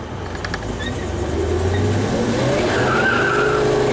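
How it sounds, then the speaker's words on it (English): A car does a burnout, its engine revving loudly under steady tire skidding and squealing that builds across a few seconds, close by with no talk. "We might do a burnout"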